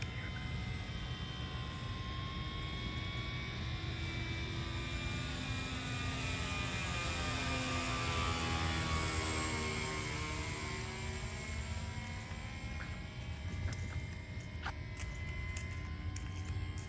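A Dynam P-47 RC model plane on battery power flies at a distance, its faint propeller whine drifting steadily and rising and falling in pitch as it passes overhead.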